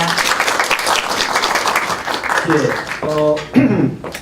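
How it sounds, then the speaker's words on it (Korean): An audience applauds to welcome a speaker introduced at a lecture event, a loud, dense burst of clapping that fades before a voice and a musical chime come in. "박수 부탁드립니다."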